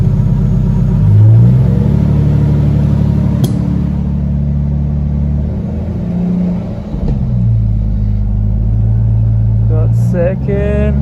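A car engine runs steadily with a deep rumble, then pulls away as the clutch engages and climbs through the gears. A short voice comes near the end.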